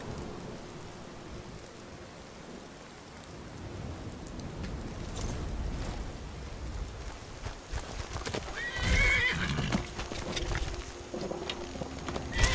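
Hooves clop in a quick galloping rhythm while a horse whinnies in Skyrim, over a soft bed of rain and a distant low rumble.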